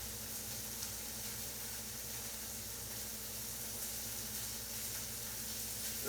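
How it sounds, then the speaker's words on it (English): Half a teaspoon of butter sizzling in a hot pan of browning mushrooms, a steady close, soft hiss and crackle that runs evenly from start to finish with no talking. "I'm going to drop a little bit, maybe a half a teaspoon of butter in here."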